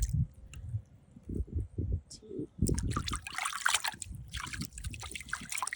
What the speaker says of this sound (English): And just dip it in the water.